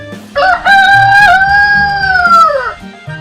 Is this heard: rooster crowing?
yes